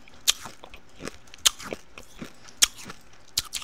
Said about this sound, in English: I have to eat my nerds